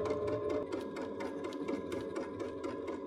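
A sewing machine stitching fabric around curves, running in a steady fast mechanical whir with a rapid needle rhythm, close and fairly quiet, with no voices.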